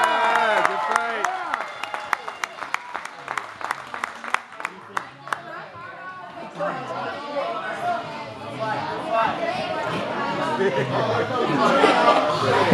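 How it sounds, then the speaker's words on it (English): Audience at an amateur boxing bout applauding and cheering the winning young fighter, scattered claps at first, then building into a dense wave of clapping, cheers and crowd chatter filling the hall. "Give this young man a round of applause"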